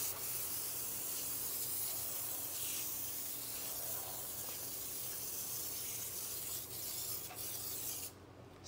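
A continuous close hiss of foam wheel cleaner sprayed onto car wheels runs steadily for several seconds, with faint rubbing and brief pauses near the end.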